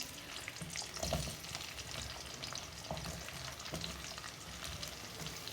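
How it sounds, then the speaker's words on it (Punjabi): Onions frying in a pan while stuffed bitter gourd is being cooked, with a soft, even sizzle and occasional stirring scrapes, fairly quiet and with no talking. "ਜਿਹੜੇ ਪਿਆਜ਼ ਉਹ ਵੀ ਇਸੇ ਤਰ੍ਹਾਂ ਫਰਾਈ ਕਰ ਲਾਂਗੇ"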